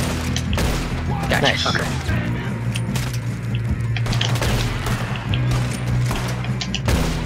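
Lever-action rifle and other gunfire in Red Dead Redemption II, repeated sharp shots and booms over a busy game soundscape, with players talking and reacting between shots.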